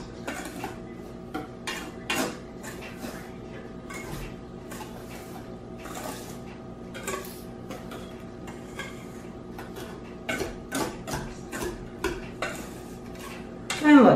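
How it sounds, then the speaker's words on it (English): Dry muffin ingredients stirred together in a bowl, with steady clinking and scraping of a utensil against the bowl and brief louder knocks throughout. "I'm just going to kind of mix that around and get all that mixed up together"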